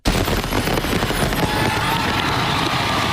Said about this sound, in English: The Macy's fireworks show lit up the night sky over the Big Apple.